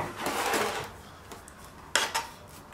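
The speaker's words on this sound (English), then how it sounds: "just use your offset spatula to spread this out into the corners of the pan" An offset spatula scrapes and spreads sticky marshmallow mixture into the corners of a pan, a soft rasping smear followed by a couple of sharper metal-on-pan scrapes, close and without talk.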